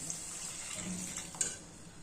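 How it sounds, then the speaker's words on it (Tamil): Water streams steadily into a cooking pot of tamarind curry with turmeric, a continuous splashing pour with a brief clink near the end. "ஒரு டம்ளர் தண்ணி ஊற்றிக்கலாம்"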